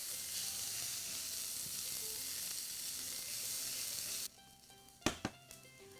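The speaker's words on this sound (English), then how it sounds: "let's add in our chopped onion. Saute this for about 2 to 3 minutes until softened." Chopped onion sautéing in a pot of oil for a vegan lentil and vegetable rice, a dense close sizzle that cuts off near the end, followed by a few sharp utensil knocks.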